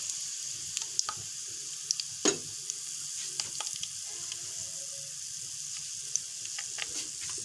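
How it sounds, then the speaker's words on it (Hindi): Whole spices fry in the oil used to fry fish for a fish curry, giving a soft, steady sizzle dotted with sharp crackles and pops, with no talking. "ये साबुत मसाला हम इसमें डाल देंगे। 1 से आध मिनट तक इसको फ्राई करेंगे।"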